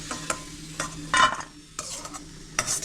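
Cashews and raisins frying in ghee, with scraping stir strokes and bursts of sizzle recurring every second or so, close and moderately loud, no voices.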